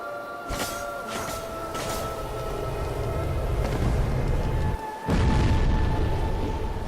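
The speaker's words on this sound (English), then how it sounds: "that was nowhere near as big of an explosion as I thought" A blast in the video game Dark Souls erupts as a loud, sustained low rumbling boom, with a second heavy burst hitting near the five-second mark amid steady droning game tones.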